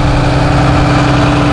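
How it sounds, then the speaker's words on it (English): Cummins ISB diesel engine of a 2010 Blue Bird All American front-engine school bus idles with a steady, loud, low rumble and constant hum, unbroken throughout. "This bus has a Cummins ISB diesel engine."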